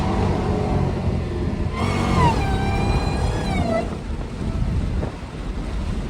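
A Dodge Hellcat revs while driving on bald tires, its engine note rising in a sweeping pitch climb over steady road and wind rumble, fairly close and loud.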